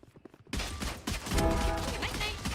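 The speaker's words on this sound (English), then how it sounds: "Let the bullets fly." Video game gunfire breaks out after a brief quiet moment: dense overlapping shots and rapid bursts that carry on, loud and close.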